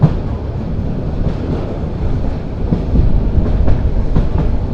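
The Saikat Express passenger train runs on the rails between Chattogram and Cox's Bazar, taking a long curve. It makes a loud, steady rumble with clickety-clack wheel beats and wind buffeting the microphone throughout.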